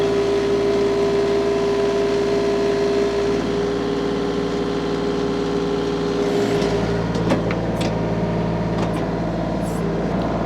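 A TYM 2515 tractor engine runs steadily at about 2100 RPM, a constant close diesel drone with a strong low hum and faint rattles toward the end.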